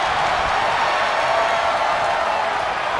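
An arena crowd cheering in WWE 2K24 during an elimination chamber match, a dense, continuous roar of voices at steady high volume with no breaks.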